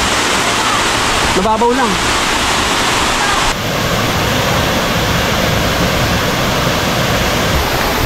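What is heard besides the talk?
waterfall at Twin Falls, Kalayaan, Laguna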